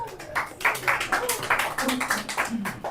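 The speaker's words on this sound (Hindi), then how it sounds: "अरे ताली बजाइए भाई साहब इनके लिए" A class claps for a student, a quick run of soft, rhythmic claps repeating every fraction of a second. The clapping sits close by amid the echo of the room.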